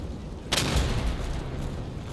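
Gunfire in the WW2 shooter game Day of Infamy: a single sharp, loud shot or blast cracks out about halfway in, followed by a low rumbling tail and distant battle noise.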